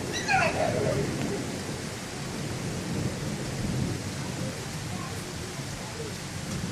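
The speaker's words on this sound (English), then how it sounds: "Come on, thunder." Thunder rumbling through a Canadian thunderstorm with rain, a low steady roll under constant rainfall hiss, with a louder burst near the start and a person's voice briefly audible.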